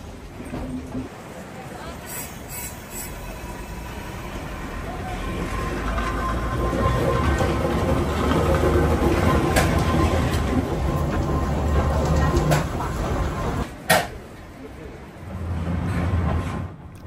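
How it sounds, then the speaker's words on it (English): Railway locomotives running around the carriages at Kurobe Gorge station on a Japanese mountain railway, a rumbling rail roll that builds and lingers with a few sharp clanks, while people chatter in the background. "The locos run around the carriages."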